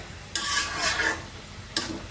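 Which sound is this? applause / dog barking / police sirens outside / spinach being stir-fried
spinach being stir-fried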